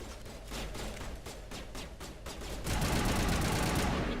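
Sniper rifle and other gunfire in Mass Effect Legendary Edition: a rapid series of repeated shots, then a louder, denser burst of combat noise, with no talking.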